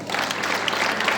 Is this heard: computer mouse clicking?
no